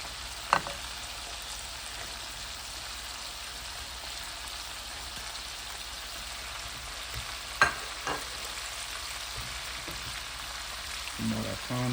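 Baby corn and green beans fry in a pan with a soft, steady sizzle, faint and continuous, broken by a couple of sharp clinks of utensils and a brief clatter near the end.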